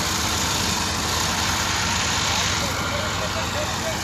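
A tractor engine idles steadily with a continuous broadband rumble throughout, loud and close, with no pauses or revving.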